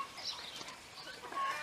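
Chickens give soft, faint clucks and murmurs in a farmyard during morning chores, a brief low-level stretch without clear speech.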